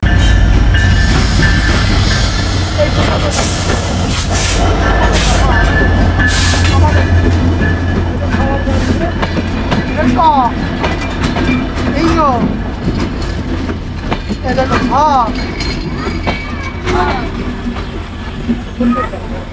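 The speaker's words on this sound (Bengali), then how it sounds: "গাইস ট্রেন আসতেছে, দেখো মা ট্রেন আসতেছে।" A passenger train on the Mobarakganj to Dhaka route pulls into a station with a loud rumbling roar, clattering wheels and rising squeals, while people talk nearby over the din.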